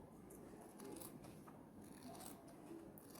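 Scissors snip through fabric while a zipper purse is made, a quiet run of crisp cutting and rustling strokes, close and faint.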